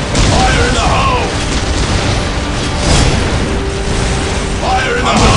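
Heavy booms and explosions rumble through a Warhammer 40,000: Dawn of War battle, a loud dense wash of blasts and mechanical clatter with unit voices calling out over it.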